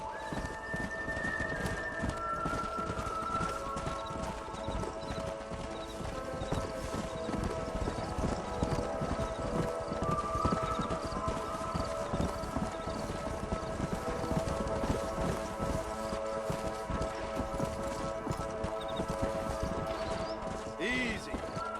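Horse hooves clip-clopping steadily in the Red Dead Redemption video game, a continuous rhythmic clatter of several horses under a dense ambient bed, with an occasional whinny and voices speaking over it.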